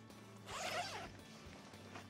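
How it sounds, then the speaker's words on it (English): A zipper on a SOL Escape Bivvy emergency shelter with reflective lining is pulled part way in one steady, close zip lasting about half a second, with faint handling rustle around it. "The zipper only actually goes part way down, as you can see."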